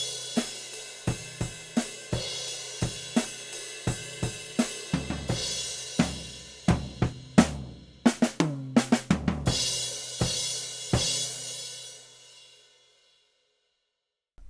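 Drum kit plays the closing section of a Trinity College grade piece, a steady run of sharp kick, snare and cymbal hits building to dense fills before a crash that rings out and fades to silence.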